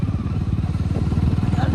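A motorcycle rolling slowly along a cold, heavily fogged road at near-freezing temperatures, its engine putting out a steady low, even thump close by, continuous throughout with light wind and road noise.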